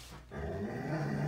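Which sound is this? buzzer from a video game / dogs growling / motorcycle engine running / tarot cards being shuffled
dogs growling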